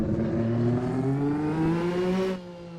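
A Tyrrell 012 Formula One car with a naturally aspirated Ford Cosworth engine holds a loud, steady revving note that climbs slowly in pitch, then drops off sharply near the end.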